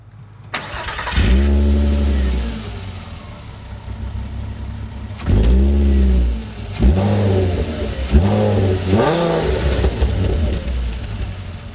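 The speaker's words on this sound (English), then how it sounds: "Just another exhaust here for this V6. Let's listen to the sound." A Seat Leon Cupra V6 revs hard several times through its exhaust, heard near and loud. Sharp blips rise and fall back to a burbling idle in between, with no voices.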